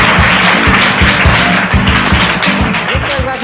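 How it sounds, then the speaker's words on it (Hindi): Studio audience applause on the Kaun Banega Champion game show, a dense steady wash of clapping over a regular thumping low beat, loud and continuous throughout. "जोरदार तालियां हो जाए।"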